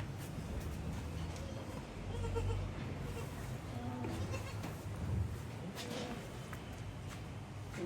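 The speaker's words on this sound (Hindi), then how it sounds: "अभी भी बकरा मस्ती में है।" A breeding billy goat bleats a few times amid a noisy farmyard background, with other livestock sounds and faint talk in the distance, fairly quiet overall.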